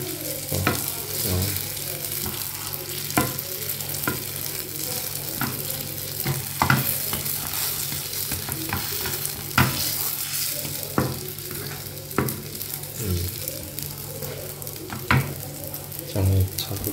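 Food pan-fries in a sizzling pan while being stirred, a steady crackling hiss broken by regular scraping strokes of a utensil every second or so, close and fairly loud.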